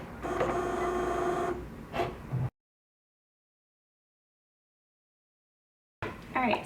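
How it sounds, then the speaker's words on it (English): A Cricut cutting machine cutting iron-on vinyl gives a close mechanical whir with a buzzing, motorized tone that stops abruptly, followed by silence and a brief return of the whirring. "I'm going to go ahead and load this up into my Cricut machine"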